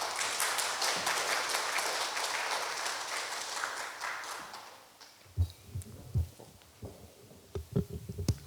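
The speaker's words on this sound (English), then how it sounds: "A round of applause, please." Audience applause welcoming a speaker at a health talk, dense clapping for about five seconds that fades out, then gives way to scattered low thumps and handling noises close to the microphone.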